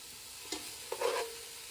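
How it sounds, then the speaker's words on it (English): Skin-on chicken and onions cooking in a pot for a soup give a steady, close sizzle. Brief stirring scrapes cut in twice over the frying hiss, and no one speaks. "Just gonna let that cook a little bit until our onions soften."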